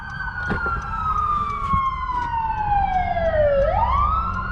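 A loud wailing siren from a passing ambulance and police vehicle sweeps slowly downward, then rises again nearby, over a low rumble of traffic.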